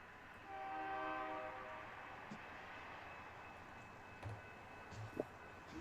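A freight train horn sounds through a small river town at a level crossing, a sustained harmonic blast in the first seconds that fades under steady rumbling background noise.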